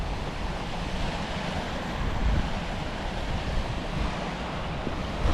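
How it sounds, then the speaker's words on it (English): Rainwater rushes through farmland gullies and spills over as small waterfalls, giving a continuous broad rushing roar with some wind buffeting. "all the gullies get full of water and get forced through and creating all these little waterfalls"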